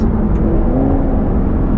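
A car's engine drones loud and close, its low tone rising steadily like a vehicle accelerating. It comes from an Aston Martin V12, either a GT12 or a DBS Superleggera, heard from inside with no one speaking.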